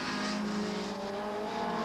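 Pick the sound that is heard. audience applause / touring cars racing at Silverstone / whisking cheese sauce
touring cars racing at Silverstone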